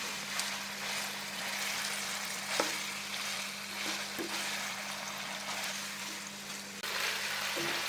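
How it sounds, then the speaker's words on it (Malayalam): Boiled pork fries lightly in oil for a Kerala Nagaland style pork fry, giving a steady, close sizzle with a few soft stirring knocks and no talking. "ഊറ്റി എണ്ണയിലൊന്ന് ചെറുതായിട്ടൊന്ന് മുടിച്ചെടുക്കാം"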